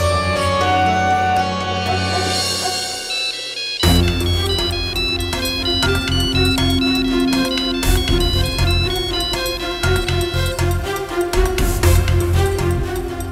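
A mobile phone ringtone plays a bright, busy electronic melody in a Hindi TV drama scene, looping steadily and loudly for over nine seconds after a brief stretch of softer music at the start.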